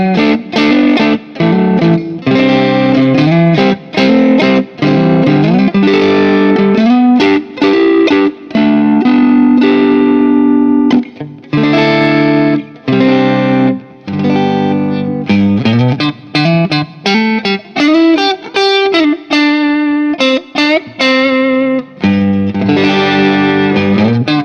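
A Glarry Strat-style electric guitar runs through overdrive, playing loud, sustained distorted chords and single-note lines in continuous bursts with short gaps and no speech.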